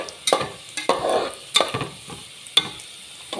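Loud sizzling and crackling of tomatoes and chillies frying in hot oil, with intermittent stirring scrapes and clinks of a utensil against the pan.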